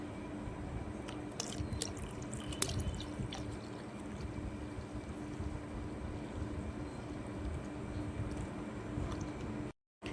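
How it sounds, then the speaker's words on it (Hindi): Water poured steadily into a homemade dishwashing liquid mixture, a continuous close splashing pour lasting nearly the whole stretch before cutting off briefly near the end. "पानी डाल देंगे।"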